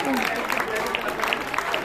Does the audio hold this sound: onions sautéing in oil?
no